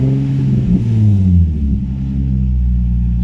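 A Nissan 350Z engine in limp mode with the warning lights on, held at a steady rev with little power: a continuous low, rumbling drone that rises and falls slightly, close and loud throughout.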